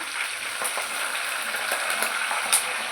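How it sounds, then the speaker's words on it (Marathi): Hot oil in a pan sizzles and crackles steadily around onion, curry leaves, hibiscus flowers and leaves, and watery aloe vera gel, a close and continuous frying hiss with small pops. "त्याच्यामध्ये पाणी असल्यामुळे तेलाचा असा आवाज येतोय."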